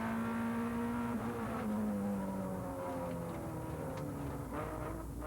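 Suzuki Swift race cars on a circuit accelerate hard up through the gears on a long straight, engines revving loud and rising in pitch with gear changes, a continuous dense roar.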